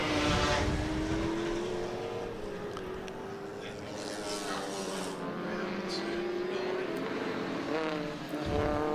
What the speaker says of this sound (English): Les Walmsley in the Cortina just ahead of Francis Meyer in the Cooper S